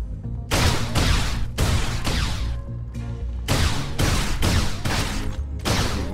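Repeated loud bursts of gunfire in the sci-fi video game Project Genom, a string of close, sharp shots with echoing tails coming in quick clusters over about six seconds.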